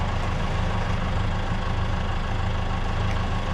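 A boat motor idling, a steady low rumbling drone with a regular throb, close and constant throughout with no talk.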